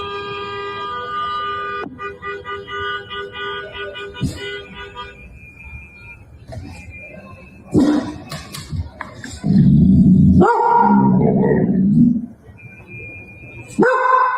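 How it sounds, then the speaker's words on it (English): A dog barks repeatedly in agitated bursts, mixed with short car horn toots and some traffic noise, fairly close and loud toward the end. "The dog is irritated."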